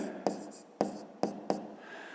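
Pen writing out a math calculation on paper, four quick distinct scratching strokes with short pauses, close and quiet, no voices.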